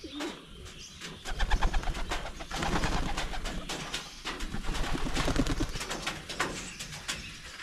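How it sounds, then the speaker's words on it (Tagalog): Several pigeons coo close by, soft repeated throaty calls overlapping in bursts, with faint rustling and a bird chirp or two. "Marami na po yung lumabas ating mga kalapati"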